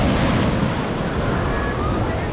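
Evening wind and surf at Ponnani beach in Kerala form a dense, continuous rush, with wind buffeting the microphone close by.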